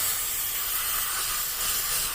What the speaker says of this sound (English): took my brake clean.